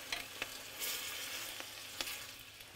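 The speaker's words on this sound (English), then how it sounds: "Stir that around." White wine sizzles in a hot pan as it is stirred around, a soft continuous frying hiss broken by a few sharp spoon scrapes and clicks, quiet and close with no talking.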